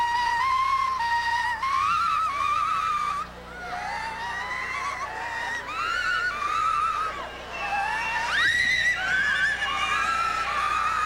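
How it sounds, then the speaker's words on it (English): A crowd at an outdoor rally to save the Jets whistles Happy Birthday together, a loud, continuous and slightly ragged melody of many whistles carrying over a murmur of voices. "everybody, I want you to whistle happy birthday."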